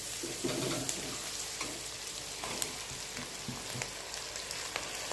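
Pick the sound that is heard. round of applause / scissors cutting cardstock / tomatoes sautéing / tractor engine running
tomatoes sautéing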